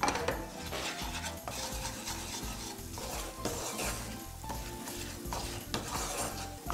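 Spices frying in butter and oil in a pan while making rose-shaped manti, giving a steady sizzle with repeated stirring scrapes and light clinks against the pan, with no talking.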